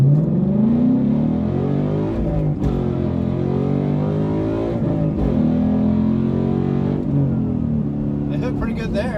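A 2016 Ford Mustang GT V8 accelerates hard in repeated pulls, the engine note climbing through several gear changes, loud and close from inside the car, with people talking over it.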